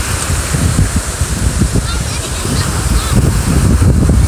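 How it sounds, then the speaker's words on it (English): Ocean surf rolling onto a beach as the high tide comes in, a loud, continuous rushing wash with some wind buffeting on the microphone. "Each wave's getting higher."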